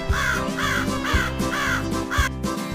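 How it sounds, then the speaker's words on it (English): A crow caws five times in a steady rhythm, each call harsh and loud and close, over a constant low hum. "It is a crow."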